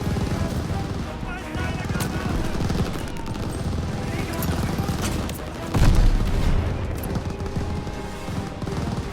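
Dense gunfire and explosions fill a firefight in Call of Duty: Vanguard, with a heavier boom near the middle, continuous loud bursts under voices talking throughout.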